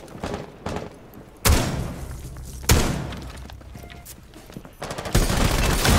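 Gunfire in the shooter game Rainbow Six Siege, several sharp loud bursts of shots at irregular intervals over a steady background rumble of the game.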